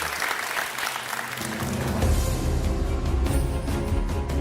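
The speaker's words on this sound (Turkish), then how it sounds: "Bir kez daha alkışlıyoruz ve uğurluyoruz hocam" An audience at a Quran recitation competition applauds a contestant, a moderate wash of clapping with a low rumbling hum rising beneath it partway through.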